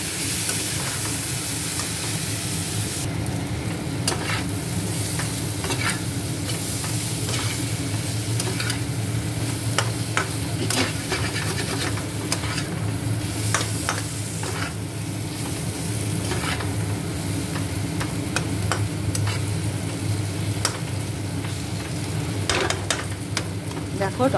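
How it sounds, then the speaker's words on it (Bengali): Vegetables and spices sauté in hot oil in a pan, a loud continuous sizzle broken by repeated scraping strokes of a spatula as the mixture is stirred up close. "ভালো করে কষিয়ে নেব।"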